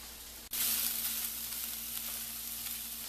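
Vegetables and garlic sauté in a pan for a veggie-loaded Mexican lasagna: after a brief hush, a loud, steady, close sizzle bursts in and holds without a break.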